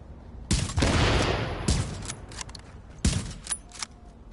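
Gunfire and a grenade explosion in The Division video game: sharp, loud rapid shots and a heavy blast, then scattered cracking shots with a booming tail and no talking.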